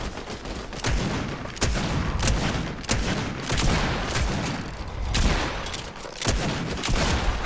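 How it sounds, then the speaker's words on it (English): Gunfire in a realistic shooter video game, including revolver shots. Sharp cracks and booms land irregularly over a busy, noisy battle background at moderate loudness. "Shot you 9 times in that with a revolver."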